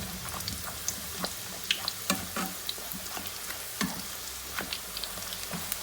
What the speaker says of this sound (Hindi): अब मैं पूरी को इस तरह उठाकर इसके अंदर, घी के अंदर डालूंगी और इस तरह हम लोग चम्मच चलाएंगे।